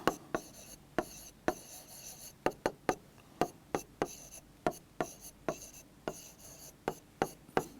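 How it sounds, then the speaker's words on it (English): Pen or pencil writing out chemistry cell reactions by hand, a steady run of short scratchy strokes and taps on paper, close and fairly quiet, with no talking. "let me write down the reactions at the cathode and the anode"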